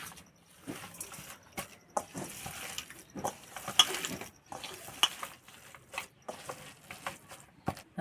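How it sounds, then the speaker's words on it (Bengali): Papaya pakora batter is kneaded by hand in a bowl, giving close, wet squelching and slapping sounds in an irregular rhythm with short pauses between strokes. "জল দিলে হবে না এইভাবে মেখে নিতে হবে"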